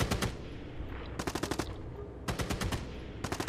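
Bursts of automatic fire from a gas-operated PK machine gun in a combat video game, three or four rapid, loud strings of shots separated by short pauses, with no talking.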